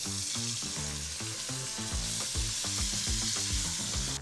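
Loud, constant sizzling of short ribs searing in a hot pan, with crackling pops and some stirring noises.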